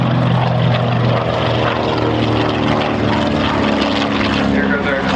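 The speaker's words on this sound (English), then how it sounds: "as you can appreciate from the way in which Obi flies it, the Corsair is a particularly hot plane" A Corsair propeller fighter plane's engine roars loudly and steadily throughout, a continuous close drone with no pauses, at an airshow.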